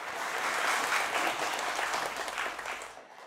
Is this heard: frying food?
no